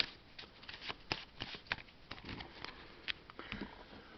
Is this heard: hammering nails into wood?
no